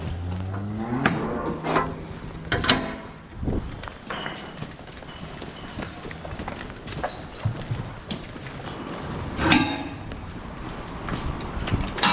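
Dairy cows being let out of a shed on an English dairy farm, with irregular clattering hoof steps and knocks on concrete and metal, moderately close amid barn clatter.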